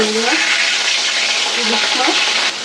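Rohu fish frying in hot oil makes a loud, dense, continuous sizzle that fills the whole moment, with a faint voice briefly under it.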